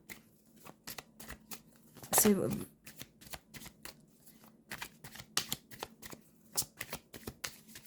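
A tarot card deck is shuffled and cut in a series of crisp, close riffling bursts, with a louder flurry near the start, while a voice talks softly underneath.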